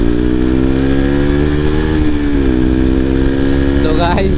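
A KTM RC200 sport motorcycle ridden fast on a road through an industrial area gives a loud, close, sustained engine drone with a steady high-revving pitch that dips briefly, then sharp rising harmonics near the end.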